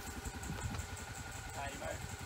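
A vehicle engine runs in gear with a low steady rumble, heard close while people talk over it.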